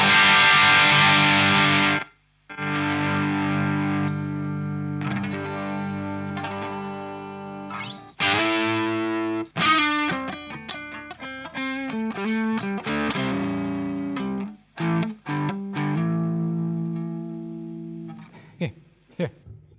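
Electric guitar played through a 100-watt Blackstar Series One Mk II amp on a heavily distorted channel: sustained crunchy chords, then choppy staccato riffs and single notes separated by short silences.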